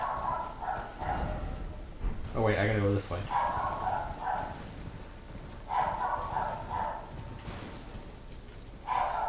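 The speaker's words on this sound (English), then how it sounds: "if you can hear the dog barking, don't mind her." A pet dog barks briefly in the background, a short sharp burst under a person's steady talking, while a game plays quietly.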